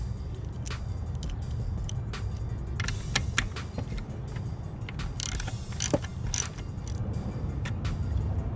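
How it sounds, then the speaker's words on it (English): A socket and ratchet loosen a 13mm nut on the alternator of a 1997-2004 C5 Corvette, quick repeated ratcheting clicks in bursts at close range over faint background noise. "The nut on the alternator is a 13mm, so I'm going to use my socket and ratchet to remove the nut."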